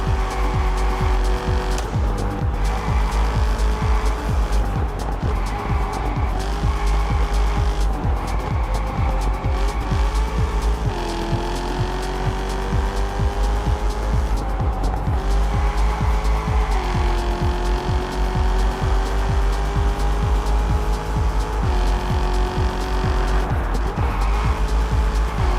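Racing cars in the Test Drive Unlimited Solar Crown video game, including a Porsche, with loud continuous engine drone rising and falling through gear shifts, plus tire squeal and skids.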